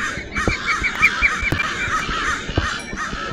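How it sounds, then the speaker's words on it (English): Crows cawing in the Minecraft video game, a rough flock chorus of repeated harsh calls running steadily throughout over faint game background noise. "Bunch of crows."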